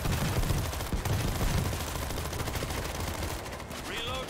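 Rapid bursts of hip-fired guns in the zombie shooter World War Z, dense overlapping shots and clatter running throughout at moderate loudness.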